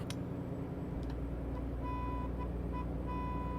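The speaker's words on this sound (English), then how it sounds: "What a terrible horn." A thin, weak truck horn in the video game American Truck Simulator sounds in short repeated toots and then a longer held note, over a steady low engine drone.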